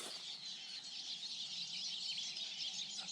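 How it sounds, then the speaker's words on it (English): Many birds call and chirp together from overhead, a dense, steady chorus of high twittering held at even loudness throughout, heard outdoors by a natural spring amid large berry bushes. "Can you hear all the birds?"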